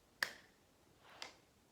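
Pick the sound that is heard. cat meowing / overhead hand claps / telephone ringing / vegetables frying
overhead hand claps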